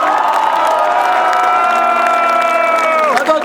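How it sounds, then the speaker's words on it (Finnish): A large crowd at a hockey championship celebration roars for veterans with loud, sustained cheering and whooping and some clapping, an unbroken wall of voices that wavers near the end. "ensin raikuvat aplodit jokaiselle veteraanille."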